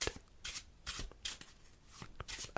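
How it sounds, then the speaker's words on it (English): A deck of playing cards is shuffled close up in a quiet room, with repeated crisp riffling bursts and snaps in a steady rhythm and no talking. "you can shuffle the deck yourself"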